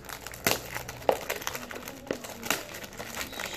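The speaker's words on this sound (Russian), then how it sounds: "Хотела аккуратно распаковать, чтобы потом коробочку красиво поставить." Crinkling and crackling packaging rustles up close as a box of wellness supplements is unpacked carefully, with irregular crisp crackles and a few sharper tearing snaps, no talking.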